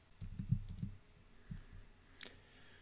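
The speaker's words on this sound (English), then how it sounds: "And after I type that in," A quick burst of soft computer keyboard keystrokes, close and quiet, followed by a couple of isolated taps and a sharper click, with no one talking.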